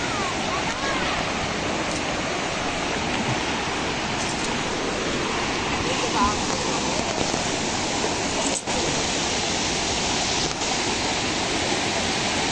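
Loud, constant roar of fast-rushing river floodwater from a typhoon nearby, a dense unbroken wash of noise that barely varies throughout.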